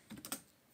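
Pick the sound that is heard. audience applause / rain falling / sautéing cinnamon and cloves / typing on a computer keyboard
typing on a computer keyboard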